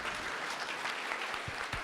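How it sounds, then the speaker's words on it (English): An audience at a youth engagement session at a Red Cross centenary summit claps steadily in a dense, even burst of applause, with no break across the short stretch. "Give her a round of applause."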